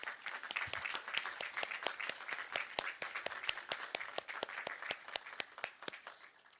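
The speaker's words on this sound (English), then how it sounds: "Everyone, can we give them a round of applause?" An audience at a rally to end child abuse gives a sustained round of applause, many hands clapping in a dense, even patter that holds steady throughout without speech.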